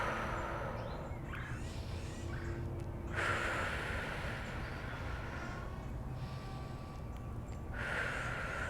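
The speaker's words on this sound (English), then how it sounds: "And exhale, get all the air out of your lungs." Long, deep exhaling breaths during a Pilates breathing exercise, a steady airy rush that swells and fades in slow waves, close up and with no talk over it.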